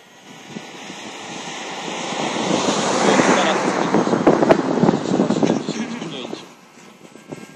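A YI SKY model airplane's engine drones as it flies past in a light breeze at about half throttle, the whine rising to a peak and fading, with wind buffeting and voices talking over it.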